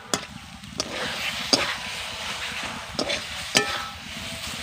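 Cauliflower paratha filling being stirred and fried in a pan, a steady sizzle broken by a few sharp scrapes of the spatula against the pan at irregular intervals.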